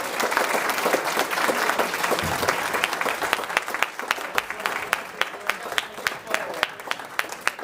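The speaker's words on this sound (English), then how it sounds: "please, let's give a round of applause to our panelists." Audience applause for alumni panelists at a high school panel discussion, steady dense clapping filling the room for several seconds before thinning into scattered individual claps.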